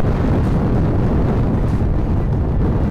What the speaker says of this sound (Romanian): Zona asta e cunoscută ca o zonă cu vânturi puternice.